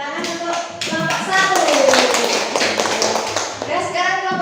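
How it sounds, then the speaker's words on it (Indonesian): A classroom of young pupils gives a group of children a round of applause, with a dense patter of hand claps running steadily throughout and children's voices mixed in. "Tepuk tangan untuk kelompok"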